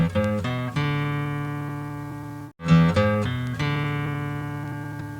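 An acoustic guitar plays the opening single-note pattern of a riff on open low strings: a series of clear, close plucked notes, a brief pause, then the pattern repeats.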